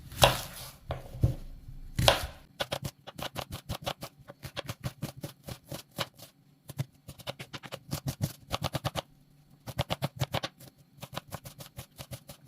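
Two onions are finely chopped with a knife for a pirozhki filling. Fast, even knife strikes come close and crisp in bursts, with short pauses between them and no talking.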